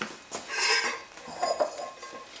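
A metal spoon scrapes and scoops the pith out of halved oranges for marmalade, producing a couple of close, soft scraping clinks against a bowl.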